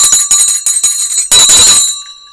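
A stock market closing bell rings in a series of rapid, loud metallic strikes, then one sustained burst that holds briefly and fades into a lingering tone.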